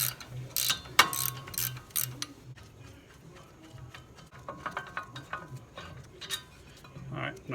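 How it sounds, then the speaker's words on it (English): A hand ratchet spins caliper bracket bolts loose on a 2006 Nissan Xterra brake job, giving bursts of rapid clicking early on, then quieter intermittent mechanical clicks and clatter, close up with no talking. "Once you got it broke, you can go back to a ratchet and just spin them off."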